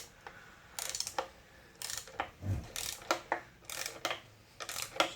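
Torque wrench ratcheting as it tightens valve cover bolts to 80 inch-pounds on a 2013 Hyundai Sonata 2.4L engine: close, sharp clicking bursts in quick irregular groups with short pauses, no talk.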